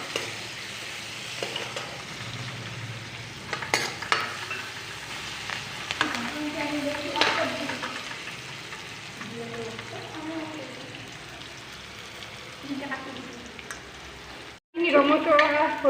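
Meat sizzles in hot mustard oil with irregular spatula scrapes and stirring strokes over a steady fry hiss, while a voice speaks intermittently nearby; a louder burst of sizzling arrives at the very end.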